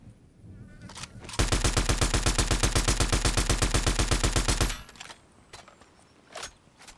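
A long, rapid burst of automatic gunfire in Fortnite rattles out loud and close for about three seconds, followed by a few scattered single shots and faint game noise.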